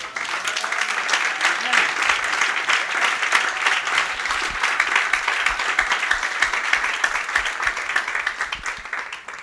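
A church congregation bursts into loud, sustained applause that keeps an even, dense clapping texture from start to finish, with no one speaking over it.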